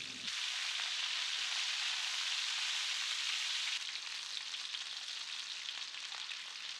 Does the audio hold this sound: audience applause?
no